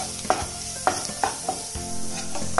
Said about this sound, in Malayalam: എല്ലാം കൂടെ നമുക്ക് നല്ലപോലെ ഒന്ന് ഇളക്കി കൊടുക്കാം.